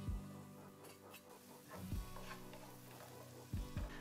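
Chopped chili added to onion glazing in a pan, a soft continuous sizzle with a few louder crackling bursts as the pieces hit the hot fat.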